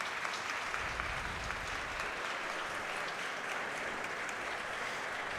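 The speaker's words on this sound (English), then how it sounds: "Prolonged applause." Prolonged applause from the audience at a professional pool match at the Puerto Rico Open, a steady dense clapping sustained throughout, fairly distant and even in level.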